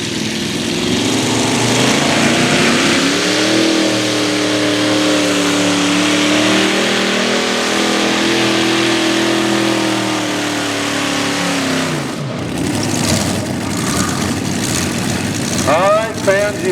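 High-horsepower pulling tractor with multiple engines roaring at full throttle during a tractor pull, a loud sustained rumbling drone with shifting pitch that suddenly drops off near the end, followed by crowd and announcer noise.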